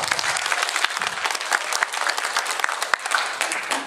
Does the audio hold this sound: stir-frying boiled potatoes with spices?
no